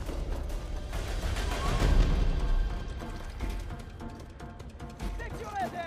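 Sniper gunfire in the video game Uncharted 4, heavy booming shots under a busy battle mix with a loud burst near the two-second mark, while voices shout over the action.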